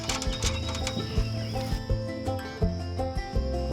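Crickets kept as fishing bait chirp steadily and fairly close, with a dense high trill over scattered low knocks and handling noises.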